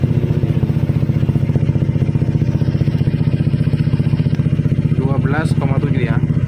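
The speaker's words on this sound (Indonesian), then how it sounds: "Kita coba starter lagi guys." A motorcycle engine running steadily on a lithium LiFePO4 battery setup, a loud, even rumbling idle throughout with a brief rise in revs near the end.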